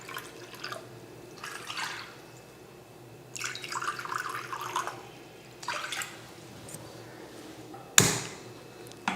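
Water splashes into a container in several short pours of about 1.5 cups, measured with a cup, separated by pauses, ending with a sharp clink.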